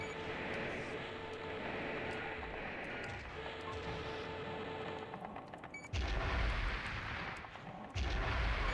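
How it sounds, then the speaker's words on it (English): Heavy grenade launcher blasts in a video game, a continuous rumble of explosions with deep booming impacts near the end, loud and close over game sound. "You do have to be careful with the grenade launcher, because you can absolutely hit yourself."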